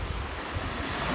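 Sea waves washing onto a UK beach, a steady broadband rush of surf blended with wind buffeting the microphone, continuous and fairly close.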